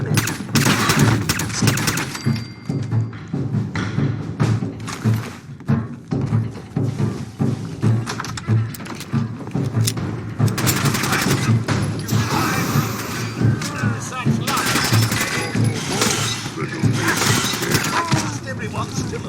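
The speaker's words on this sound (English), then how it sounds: "It appears someone is shooting at us." Enemy gunfire in Fallout 4 rattles through a dense, loud battle scene, with bursts of shots, shattering impacts and thuds layered under continuous voices and music.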